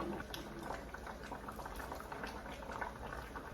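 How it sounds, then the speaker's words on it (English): A pot of yam and goat meat pepper stew bubbles steadily at a soft, even simmer, close and continuous, with faint voices at times. "You can see how it's boiling, right?"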